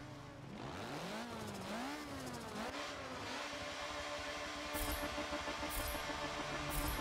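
A race car accelerates hard in Forza Motorsport 7, its engine note climbing and dipping through gear changes, then holding a high sustained roar close up and alone.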